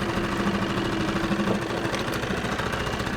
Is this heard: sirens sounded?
no